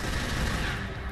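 Rapid gunfire from the Tomb Raider Legend video game, a dense continuous burst of automatic shots filling the whole moment at steady loudness with no talk over it.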